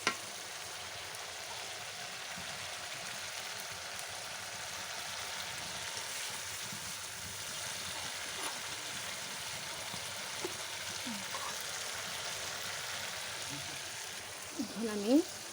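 Soft continuous sizzle of food frying in a pan at home for a family meal, faint and steady throughout with occasional light stirring clatter, a voice talking over it.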